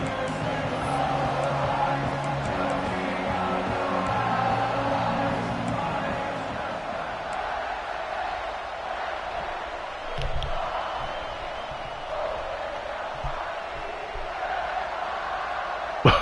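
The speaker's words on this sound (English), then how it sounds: "Like, they're singing a song, the whole crowd." A college football stadium crowd sings together in a sustained, swelling chorus, a dense wash of many distant voices that carries on steadily throughout, with occasional thuds and a brief sharp knock at the very end.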